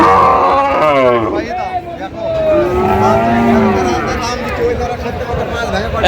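Friesian and crossbred bull calves moo repeatedly with long, drawn-out calls amid a busy background of crowd chatter and human voices at a Dinajpur livestock market.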